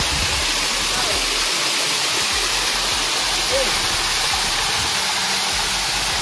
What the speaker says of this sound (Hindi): बहुत ज़बरदस्त आवाज़ सुन सकते हैं कितनी तेज़ आ रही है इसकी पानी की